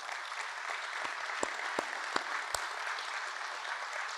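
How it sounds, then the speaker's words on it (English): Modest applause from a seated audience at a city state-of-the-city address, fairly quiet and steady, with a few distinct louder claps standing out. "Can we give them an applause?"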